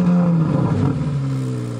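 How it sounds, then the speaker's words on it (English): A 2023 Chevrolet Corvette Z06 with a hand-built engine and centered exhaust revs close by, a loud throaty burst that rises and then settles into a smooth, falling drone. "Exhaust."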